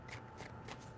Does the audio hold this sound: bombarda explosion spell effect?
no